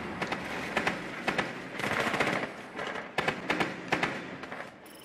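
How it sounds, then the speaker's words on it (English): Rapid bursts of automatic gunfire from an enemy shooting at the player in a first-person shooter video game, repeated volleys in quick rhythm with short gaps, fairly loud and close. "How is he shooting me?"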